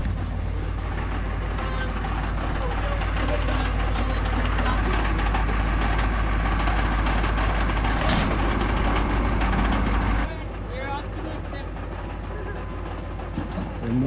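A tow truck's engine idling close by, a loud, steady low diesel rumble with mechanical clatter that drops slightly in level near the end.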